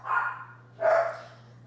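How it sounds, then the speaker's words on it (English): A pet dog barks twice indoors, two loud separate woofs about a second apart over a low steady hum, with no talking. "sorry about my dogs."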